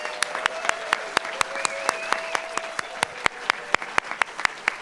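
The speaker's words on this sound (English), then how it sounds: "please join me in one final round of applause to recognize today's inductees" Audience at a journalism school Hall of Fame induction ceremony claps for the inductees with sharp, distinct claps at a fairly even pace, over a faint tonal hum in the room.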